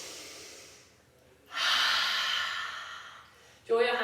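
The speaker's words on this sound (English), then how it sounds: "If you wanna add in a nice audible exhale, then please do." A long, audible exhale during a postnatal yoga goddess squat, a soft breathy sigh that swells and fades, followed by a sharper breath at the end.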